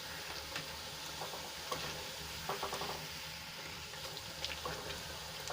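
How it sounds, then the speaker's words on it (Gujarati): Methi bajri puris deep-frying in hot oil give off a soft, continuous bubbling sizzle, faint and even throughout, with a few light clinks of a utensil turning them. "થોડી જ વારમાં પૂરી આપણી તળાઈને ઉપર આવી ગઈ છે તો હવે આપણે એને પલટાવી લઈશું"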